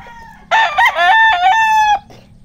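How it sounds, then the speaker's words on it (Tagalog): A rooster crows once, loud and close, a harmonic cock-a-doodle-doo lasting about a second and a half, heard on a farm where chickens are kept, with faint background noise before and after. "may mga manok kami"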